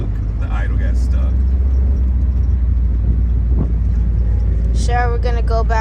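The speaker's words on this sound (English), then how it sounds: "The idle got stuck." Inside the car, the supercharged Coyote V8 swap drones in a constant heavy low rumble, its idle stuck high, with speech breaking in toward the end.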